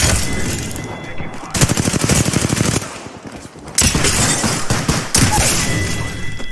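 Rapid automatic gunfire rattles in bursts during an Apex Legends match, with loud volleys, short pauses and sharp impacts, all close and dominant.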